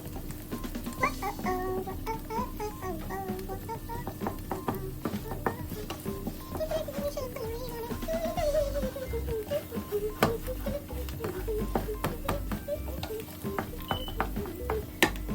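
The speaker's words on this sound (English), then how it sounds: "there's still a little bit of fat in there, so I'm going to cook it for a little longer" Chorizo fries in a pan, still releasing a little fat, with a steady close sizzle broken by frequent sharp pops and crackles, scraping stirs now and then, and no voices.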